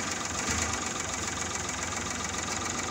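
A Suzuki F5A multicab engine idling after a tune-up, a steady close mechanical hum with a faint rhythmic knock and no pauses, no talking over it.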